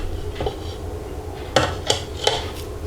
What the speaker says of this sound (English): just push the mashed potato through the sieve just to get rid of any small lumps.